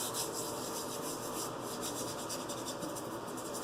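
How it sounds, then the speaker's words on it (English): Soft, steady rubbing of pre-shave being worked into the skin of a face before a wet shave, a continuous quiet close-up friction with no talking. "I just got to rub in this pre-shave."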